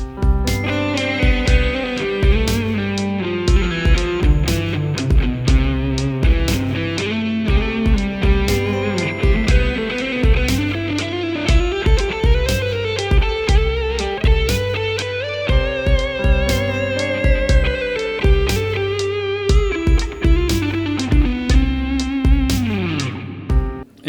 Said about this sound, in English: Here's a nice little cheesy lo-fi guitar backing track that I made